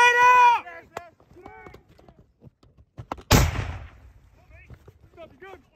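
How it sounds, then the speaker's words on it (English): A thrown grenade goes off in combat with one sharp, loud blast that fades into a rumbling decay. Shouting voices come before and after it. "Grenade out!"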